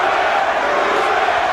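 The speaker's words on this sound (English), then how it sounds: "Crowd enjoying this one." Arena crowd roaring and cheering at the Holyfield vs Lewis heavyweight boxing fight, a loud continuous wash of many voices that holds steady throughout.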